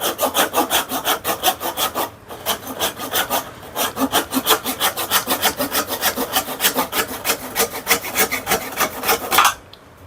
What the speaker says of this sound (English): This is not the saw that's intended for this use,